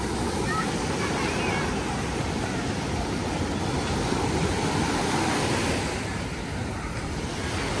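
Small sea waves wash steadily onto the shore beside a lakeside tent camp, a continuous broadband surf roar mixed with wind noise on the microphone.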